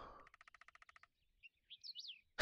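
Woodpecker drumming in a video game: a quick, even burst of about a dozen sharp knocks, followed by a few chirpy bird-like calls and then a sudden loud noise at the end.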